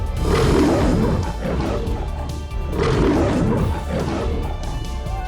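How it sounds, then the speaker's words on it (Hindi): A lion roars as it charges, two long, loud, rumbling roars in succession, close and filling the clip, with no talking. "लेकिन अगले ही पल वो उठा और दहाड़ मारते हुए उस युवक की ओर बढ़ा"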